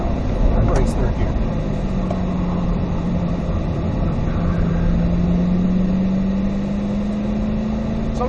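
A race car powers out of a curve at full throttle on a track, its engine drone loud and steady with a slowly rising tone, while a person talks over it the whole time.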